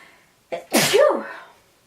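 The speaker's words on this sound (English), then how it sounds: "oh, I need to sneeze" One close, loud sneeze, a quick inhale followed by a sharp explosive burst that trails off.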